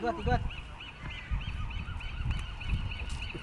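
Geese honk repeatedly at a distance, a chorus of nasal calls running throughout, with faint voices and rustling close by.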